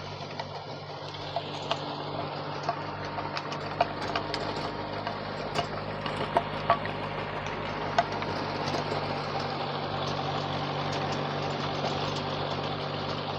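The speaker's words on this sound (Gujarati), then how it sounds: "જો ખેડૂત ભાઈઓ રોટાવેટર ચલાવે છે મહિન્દ્રાનું" An 18-horsepower VST Shakti MT 180 tractor engine runs steadily with a Mahindra rotavator churning, a constant low drone broken by scattered clanks and ticks, close by and fairly loud.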